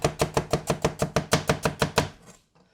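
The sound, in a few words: kitchen knife chopping food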